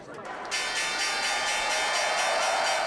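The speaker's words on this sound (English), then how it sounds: "Alibaba customers rang the opening bell" The New York Stock Exchange opening bell rings in a rapid, continuous metallic clang that starts abruptly and holds steady, loud and bright, with crowd noise faintly beneath it.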